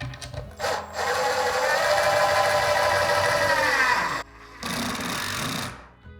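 Power drill with a Phillips bit driving a toggle bolt into a wall during trim carpentry work, a loud steady whirring run of about four seconds, a brief pause, then a shorter second burst.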